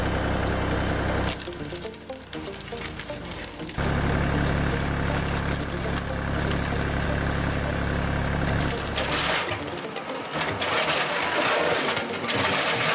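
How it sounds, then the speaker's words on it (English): A Holzhacker RP300 wood shredder, a 900 kg spiral-feed machine driven by a tractor PTO, runs loudly and continuously. Its heavy mechanical drone swells and dips as wood feeds through, with a brief quieter stretch early on and a harsher surge near the end. "The Holzhacker RP300 wood shredder demonstrates its impressive power in every frame."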